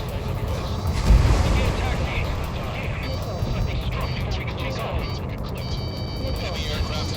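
Anti-air fire from enemy warships in Ace Combat 7, a low rumbling barrage with a heavy thump early on under a steady jet roar, with radio voices talking over it.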